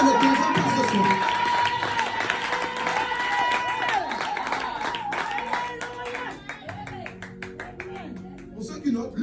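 A church congregation at a seminar service cheers and shouts in a dense swell of voices. Rhythmic clapping grows clearer toward the end as the crowd noise thins.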